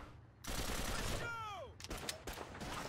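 Rapid gunfire in Call of Duty 2 Big Red One, a brief loud burst of shots with ricochet-like whines, while someone talks.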